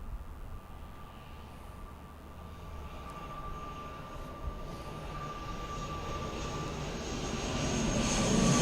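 ATR turboprop airliner engines at Birmingham Airport drone steadily and loudly, with a constant propeller tone that swells louder toward the end, heard alone without talk.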